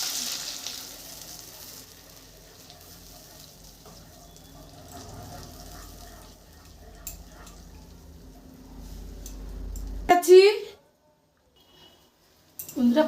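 Tomato cooking in a pan with a little water, with coconut milk added: steady sizzling and bubbling, a liquid pour and splash, then a pause, with faint stirring noises.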